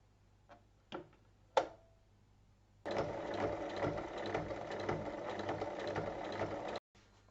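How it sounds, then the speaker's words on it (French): Sewing machine stitching a fabric lining, a steady mechanical whir running about four seconds after a few light clicks and taps, close and fairly quiet, then stopping abruptly. "On épingle et on pique sur toute la longueur."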